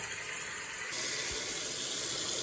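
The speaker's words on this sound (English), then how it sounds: "So filling your tap up so that way your mat is totally covered with water." A tap runs steadily into a tub or sink, filling it with lukewarm water to soak a yoga mat, a continuous close hiss that grows slightly louder and brighter partway through.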